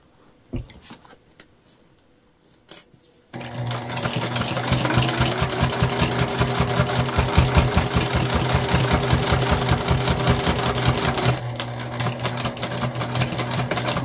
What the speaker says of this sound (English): we sewed all the way around this thing